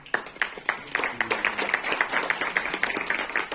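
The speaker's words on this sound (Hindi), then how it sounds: "तो इसके लिए ताली बनती है" Scattered clapping from a lecture audience, a modest round of claps with a steady, fairly quiet patter throughout and no one speaking over it.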